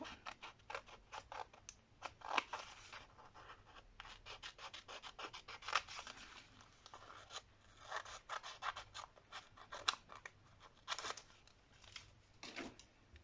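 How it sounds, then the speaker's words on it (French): Scissors cut around a sticker for a decorated Christmas gift box, making a quiet, close run of uneven snipping and rasping strokes with short pauses between cuts. "Voilà, là l'autocollant. Découper autour."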